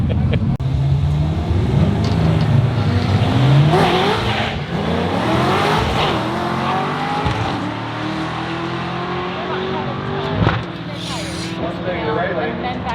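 Race trucks, a turbo Atlas Colorado and a twin-charged Magnum, roar and spin their tires at a drag race launch, engines revving and rising in pitch as they pass, with people talking over the loud racket.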